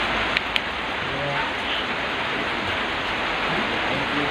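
Heavy rain pours steadily in a public cemetery at night, a dense, constant hiss filling the scene close around, with a couple of faint clicks and no clear talking.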